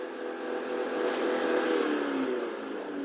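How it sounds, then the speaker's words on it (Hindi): A Maruti Baleno Zeta running on CNG, its engine held high near 5000 rpm, giving a steady mid-pitched whirring drone with a slight rising tone, continuous and fairly close for about three seconds with no talking. "और अब मैं आपको सीएनजी की साउंड सुनाता हूँ।"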